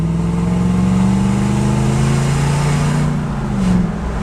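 A Lexus GX470 fitted with a Spelab exhaust cutout, its engine giving a loud, steady low rumble that swells slightly near the end, heard up close with no talking.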